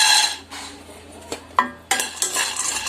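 Cashews stirred in a pan with a spoon, giving scraping, clinking strokes against the metal, a few sharper knocks between softer rustles, close and moderately loud with no talking.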